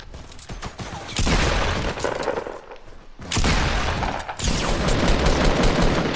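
Gunfire in the video game Fortnite, with loud, dense volleys of rapid shots and breaking impacts, a brief gap near the middle, then more sustained firing close and harsh.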